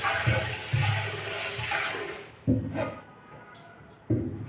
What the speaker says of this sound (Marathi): सगळ्यात आधी आपण याला छान पाण्याने स्वच्छ धुवून घेऊ